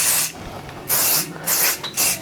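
Several short hissing blasts of aerosol spray, close and loud, separated by brief quiet gaps.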